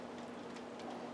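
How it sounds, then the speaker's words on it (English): Gentle rain falling outdoors on an autumn evening in western Washington, a soft steady patter with faint ticking drops, quiet and continuous throughout. "This is the sound of gentle rain falling in the sky"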